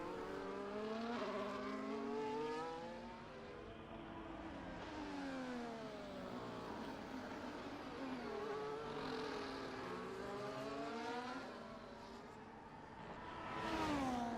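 F1 race cars in an esports racing game at the Spanish Grand Prix, Catalunya circuit, roar past in rising and falling engine whines, with several cars passing through and revving continuously for the whole stretch.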